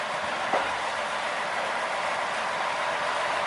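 A sugarcane lorry locomotive rolls along an old, long-unused rail line, a steady, loud rumble of wheels and engine with faint rail clatter continuing throughout, no voices heard.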